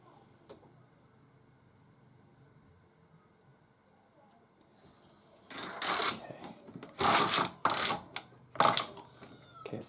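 A knitting machine with yarn threaded in runs in loud, rapid mechanical clattering bursts, starting after a quiet stretch and stopping and restarting in several close passes.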